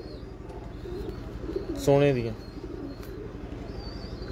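A pigeon in a breeder's loft gives a single short coo, rising briefly and then fading, with someone talking over the steady background murmur.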